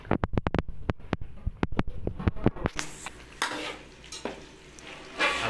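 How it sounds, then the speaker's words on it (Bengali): Water is poured into a pan of sizzling chicken kasha: clicking stirring taps first, then a loud hiss and bubbling sizzle as the liquid hits the hot pan. "হালকা জল দেওয়া হচ্ছে।"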